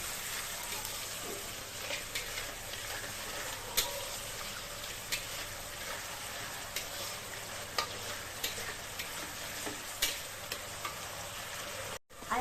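Boiled, salted dal being sautéed in a pan, a faint continuous sizzle with occasional light ticks of a spoon against the pan, quiet and steady with no one speaking.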